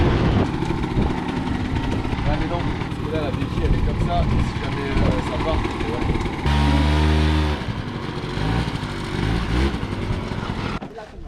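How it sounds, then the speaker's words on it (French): A rented scooter rides along in Guadeloupe, its small engine buzzing steadily with some revving, while voices talk over the motor throughout. "on s'est loué un scooter approximatif, mais qui faisait largement l'affaire"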